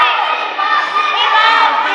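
Crowd at a Pro Wrestling Union show cheering and shouting, a steady loud roar of many voices filling the hall throughout.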